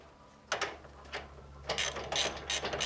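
A ratchet tightens a nut on a lower control arm cam bolt, giving short bursts of quick, close clicking separated by brief pauses.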